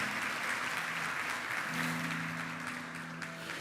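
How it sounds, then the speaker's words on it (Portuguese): A church congregation applauds during a Pentecostal-style service, the dense clapping steady and fairly distant throughout, with a faint held tone running underneath. "Aplaude ele aí para a honra e louvor do Senhor."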